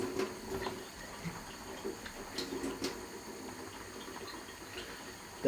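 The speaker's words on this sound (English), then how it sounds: "I'm just going to fill it with a bit of water. And then do the same again and just let that water come out." Water trickling into and splashing out of an opened sweetcorn can at a kitchen sink, soft faint pouring with a few small clinks and drips, no talking.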